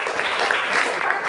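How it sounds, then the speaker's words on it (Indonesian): Steady applause from a classroom or coaching group, a continuous dense patter of many hands clapping at even loudness throughout, with no clear voices on top. "beri aplaus."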